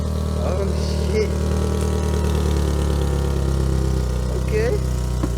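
A Ford Focus SE engine idles with a loud, steady rumble close by, rising slightly in brief revs while people talk over it.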